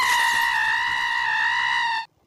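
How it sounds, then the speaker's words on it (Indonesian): A small goat lets out one long, loud, strained scream that holds steady for about two seconds, then cuts off abruptly. "mendengar teriakan dari seekor kambing yang sangat"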